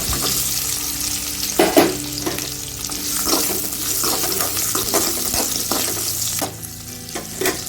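Ginger, garlic, onions and dried red chillies fry in hot oil in a pan, a loud continuous sizzle with scraping stir strokes and occasional clatter, close and without talk.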